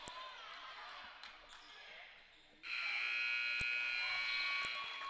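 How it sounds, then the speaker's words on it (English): A loud, sustained buzzer sounds at a high school girls' basketball game in a tournament gym, ending the third quarter, cutting in abruptly and holding steady over crowd noise with a few ball bounces before it. "that buzzer denotes the end of the third quarter"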